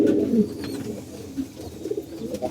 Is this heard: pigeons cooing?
yes